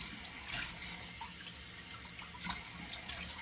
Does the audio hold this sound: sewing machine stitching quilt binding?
no